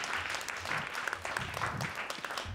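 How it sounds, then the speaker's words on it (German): Audience at an open stage comedy show in a casino venue clapping steadily, a busy patter of hands with scattered whoops, filling the room throughout. "Jetzt nochmal einen großen Applaus bitte für Hausfreund Szymanski."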